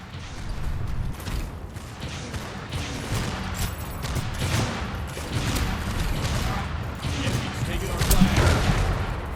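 Rapid bursts of gunfire in a capture-the-flag shooter video game, a clattering volley with sharp cracks over game mechanics while a player talks.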